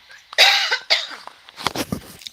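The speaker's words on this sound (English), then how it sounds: "I just have to cough real quick." A person coughs close to the microphone, a couple of harsh bursts followed by a few smaller throaty coughs.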